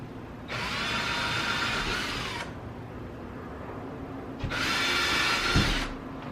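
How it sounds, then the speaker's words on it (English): A power drill bores mounting holes into a wall for a smart sprinkler controller in two loud, steady whining bursts of about two seconds each, close up, with a short pause between them and no speech. "Okay, drilling the holes."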